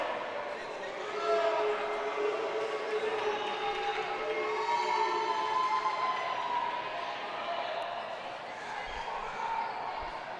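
A high school varsity hockey crowd at St Anthony's vs Northport Huntington fills the rink with sustained booing and jeering over a slashing penalty, swelling and fading over ten seconds with no break.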